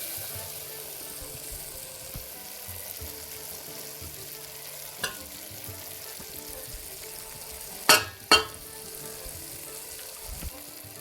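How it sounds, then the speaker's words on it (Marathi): Spices sizzling in hot oil as a tadka for a spicy Maharashtrian mutton curry, a soft, steady fry hiss with two sharp clatters near the end. "बस आता थोडासा तडका देऊया"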